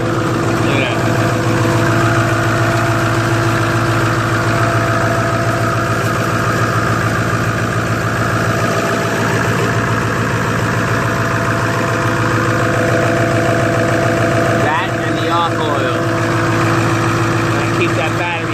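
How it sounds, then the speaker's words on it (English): A Ford Powerstroke 6.0 diesel engine idling steadily after a cold winter start, a loud, continuous low rumble with a constant drone close by throughout. "Look how smooth the engine is with the archoil."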